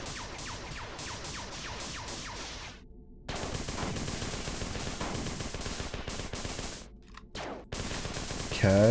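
Gunfire in the Marathon 2 video game: rapid bursts of automatic shots, close and loud, broken by short pauses.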